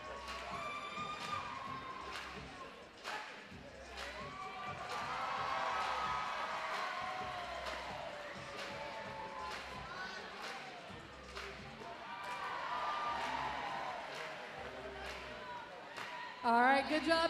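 A roller derby crowd at a Wheels of Justice versus Detroit Derby Girls bout claps and cheers in swelling waves, distant and roomy, with an announcer's amplified voice speaking over it.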